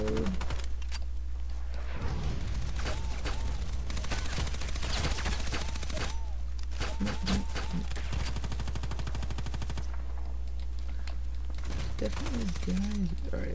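Rapid bursts of MPX submachine gun fire in a shooter video game, repeated volleys with short pauses between them, loud and up close over a steady low hum.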